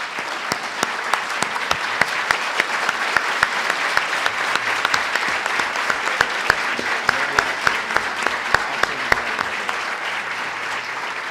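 An audience claps for panel members at a road infrastructure conference. The applause is steady, dense and crisp, filling the whole stretch from start to finish without voices.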